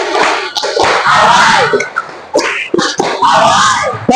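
Group of children clapping in rhythm during a classroom chant about Arabic letters of prolongation, sharp claps in quick bursts mixed with loud chanting voices.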